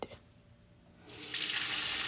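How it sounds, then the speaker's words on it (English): Tap water runs over frozen shrimps in a glass plate, starting with a faint clink and low background before the steady, bright rush of the faucet swells up and continues close by. "Then run the water on the frozen shrimps and soak the shrimps until thaw."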